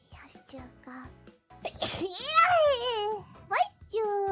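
A sudden, loud sneeze lands about midway through, wrapped in high-pitched excited talk and drawn-out squeals from a streamer speaking close to the mic.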